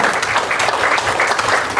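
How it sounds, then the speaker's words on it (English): An audience at a community forum in Dover giving a round of applause, a full, steady burst of many hands clapping close and loud throughout. "Let's give them all a big round of applause."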